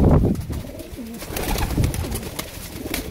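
Pigeons coo repeatedly at close range in a loft setting, overlapping rolling calls with soft rustling and flutters between them, fairly loud and with no talk.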